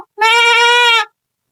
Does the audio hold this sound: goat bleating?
yes